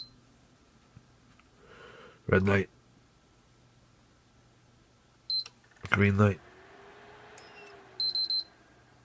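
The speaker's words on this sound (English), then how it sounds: "Yellow light. And 3 beeps." Short electronic error beeps from a 60 GB PlayStation 3 with the yellow light of death sound in brief clusters of three between two spoken remarks, with faint low hum underneath.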